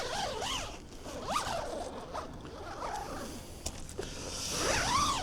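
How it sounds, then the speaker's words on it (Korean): A waterproof zipper on a Durston X-Dome 1+ backpacking tent is pulled in several rasping, stiff strokes, close and fairly loud, with no talking. "그리고 이게 방수 지퍼거든요."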